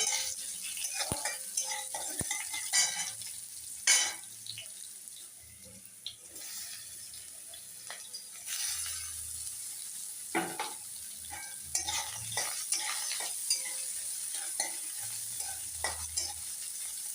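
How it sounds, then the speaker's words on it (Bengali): Carrots fry in a pan for dalia khichdi with a steady low sizzle, while a spoon scrapes and clinks as it stirs them. The sound is close and fairly quiet, with no talking. "গাজরগুলোকে ভালোভাবে ভেজে নিচ্ছি।"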